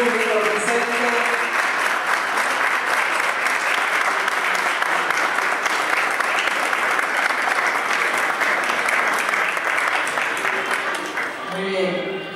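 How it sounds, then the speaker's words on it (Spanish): Applause from the audience fills the whole span at a community museum's 15th-anniversary ribbon cutting, steady and dense with many hands clapping close by. "el aplauso del público presente"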